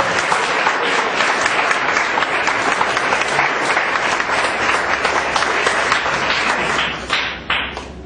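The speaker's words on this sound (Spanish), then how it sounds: "Vamos a brindar un fuerte aplauso a nuestro Dios." A church congregation bursts into loud, sustained applause, dense clapping filling the room for several seconds before thinning and tapering off near the end.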